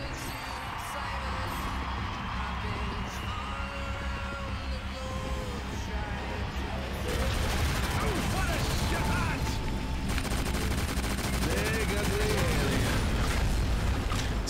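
A gun fires rapidly in the shooter game Shadowgun Legends, with dense bursts of automatic shots and impacts that grow louder partway through, along with game effects and occasional speech.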